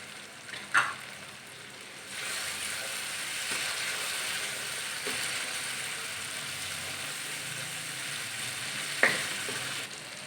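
Coarsely ground whole coriander seeds are dropped into masala frying in ghee, setting off a steady close-up sizzle with a couple of sharp clinks of a utensil against the pan.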